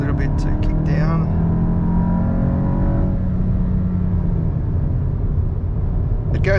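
Volkswagen Golf GTI (2023) floored from about 80 km/h on a highway, a loud, steady engine roar with road and wind noise after a short kickdown, heard from inside the cabin.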